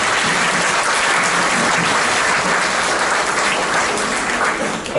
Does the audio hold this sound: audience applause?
yes